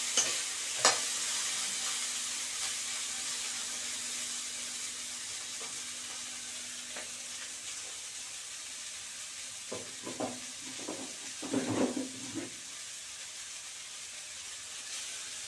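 Baby potatoes fry in a pan with coriander leaves, a steady soft sizzle and hiss. A cluster of scraping stirring strokes rises near the end.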